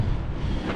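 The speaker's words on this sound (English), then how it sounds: "It is extremely windy out" Strong outdoor wind buffets the microphone beside a tractor during an oil change, a continuous loud low rumble and roar with no break.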